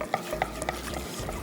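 Gelatin being stirred into hot water in a pot, a brief run of light clinking taps from a utensil against the vessel, close and isolated, with no voices.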